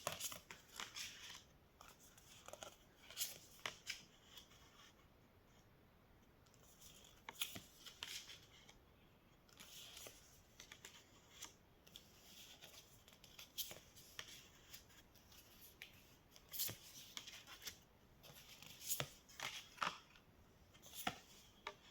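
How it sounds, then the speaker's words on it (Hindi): Tarot cards being shuffled and drawn, with a steady run of soft, close riffling and papery flicks and taps, occasionally sharper snaps, faint throughout and without speech. "मैं पहले कार्ड्स निकाल लेती हूँ फिर आप लोग को बताऊंगी।"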